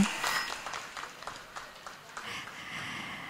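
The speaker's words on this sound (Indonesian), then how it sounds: "Bagaimana sekali lagi kita berikan tepuk tangan yang sangat meriah." A crowd of invited guests claps after a dance at an agricultural export ceremony, a moderate scattered patter that thins out, then swells again near the end.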